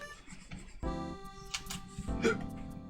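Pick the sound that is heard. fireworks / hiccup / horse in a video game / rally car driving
hiccup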